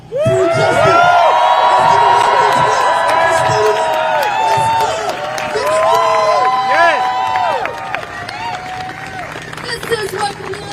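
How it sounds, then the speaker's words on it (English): A rally crowd at a live press conference cheers, whoops and claps loudly for a woman named Renee, with a voice chanting over the din and harmonic shouts rising above steady applause throughout. "Let's give a round of applause for Renee for standing up for justice."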